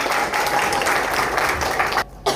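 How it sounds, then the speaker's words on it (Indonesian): Audience applause for an electric car team at a university gathering, a dense, steady wash of clapping that holds loud before cutting off abruptly near the end with a brief resumption. "Boleh kasih tepuk tangan buat mereka nih."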